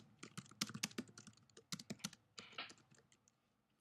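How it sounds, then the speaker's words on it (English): Rapid bursts of keystrokes on a computer keyboard, irregular clusters of clicks with short pauses between, close and fairly crisp with no talking. "I'll try to type it out right here for you guys."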